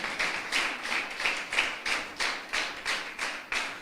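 A church congregation claps in steady unison, with about ten evenly spaced beats heard from some distance, fairly soft and rhythmic with no talking over it.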